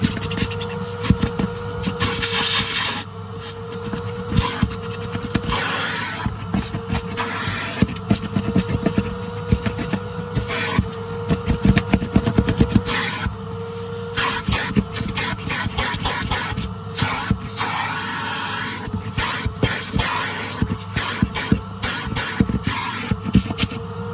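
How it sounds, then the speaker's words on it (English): A 1984 Numatic Henry HVC200 vacuum cleaner hoovering a part during a refurbishment, giving a steady whining motor drone under repeated scraping and scratching strokes of the nozzle, close and continuous throughout. "I might hoover this side actually"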